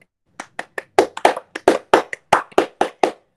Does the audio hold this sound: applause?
yes